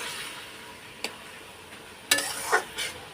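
Spices sautéing in oil for chicken ghugni, a faint low sizzle broken by a few sharp spatula scrapes and clicks against the pan, sparse and fairly quiet.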